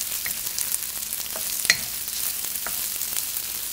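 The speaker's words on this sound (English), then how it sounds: "I'm going to put in finely sliced medium brown onion to saute. Do this on a medium-high heat." Finely sliced medium brown onion sautés in oil over medium-high heat with a continuous close sizzle and a few light scraping stirs, one louder clack midway.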